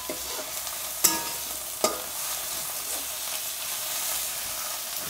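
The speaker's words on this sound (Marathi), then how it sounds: "तर आता मस्तपैकी आपण हे पूर्ण परतून घेतलेलं आहे बरं का" Wet cashew masala vegetable, Konkani kaju masala, fries in a pan with a steady close sizzle, while two sharp spoon knocks mark the stirring. Nobody speaks.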